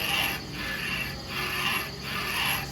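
Guide and seat machine boring connecting rod bushings at low speed, a steady mechanical whirring and grinding that swells and dips in three cycles, moderately loud and close with no talk.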